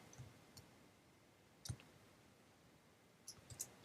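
Computer mouse clicks while working in Keynote: a few sharp, quiet, isolated clicks spaced irregularly over a low, hushed background.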